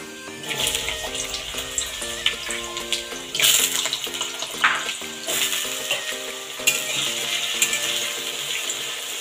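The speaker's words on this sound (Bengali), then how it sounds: "তেল গরম হয়ে গেছে, আলুগুলো ভেজে নেব।" Potatoes fry in hot oil in a wok for canteen-style ghugni, a close crackling sizzle broken by repeated scraping and stirring clatters of a utensil against the pan, with no talking.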